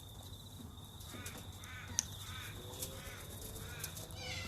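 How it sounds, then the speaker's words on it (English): Wild galahs at a parrot sanctuary give faint, scratchy calls and squawks against a low steady background hum, with one sharp click near the middle. "And the galahs are up here with curiosity."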